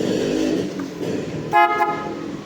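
A car horn gives a short, sharp honk over the steady hum of an idling engine.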